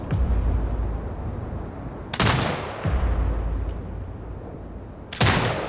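Turret gunfire in the video game Sniper Ghost Warrior Contracts 2: two loud, sharp bursts of fire a few seconds apart, each trailing into a rumbling decay over a steady low background drone.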